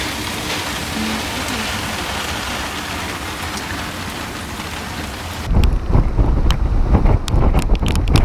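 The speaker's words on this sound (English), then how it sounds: "Now we're really getting some rain." Heavy rain in San Diego, a steady loud hiss of downpour that turns into thick wind buffeting and rumbling gusts against the microphone partway through, with no talk.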